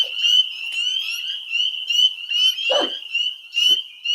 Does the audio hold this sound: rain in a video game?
no